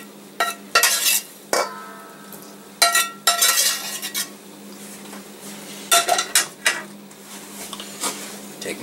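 Leftover bacon grease being scraped out of a previously drained pan: a run of sharp, separate metallic scrapes and clinks in irregular bursts, fairly close, with quiet gaps between strokes and no voices.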